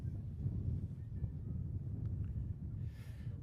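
Wind buffeting the microphone at a women's university rugby match between Edinburgh and Loughborough, a low steady rumble that stays faint and unbroken, with no clear voices.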